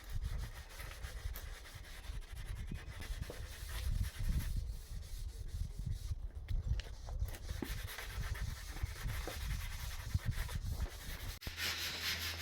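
A rounded corner of a composite laminate worktop rubbed by hand with 180-grit sandpaper, a continuous close scratchy back-and-forth rasp with uneven strokes, no speech.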